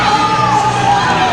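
Crowd cheering and shouting at a CrossFit final team workout competition in Dallas, Texas, a loud, continuous roar of yells and whoops close by.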